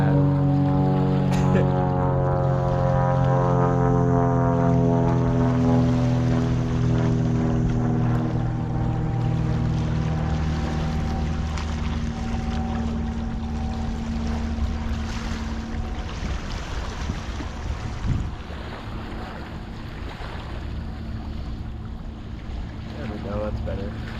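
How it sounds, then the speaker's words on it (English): A low, droning helicopter rumble with descending engine tones passes overhead at a beach, gradually fading as steady wind-like noise continues throughout. "Helicopters fly over the beach."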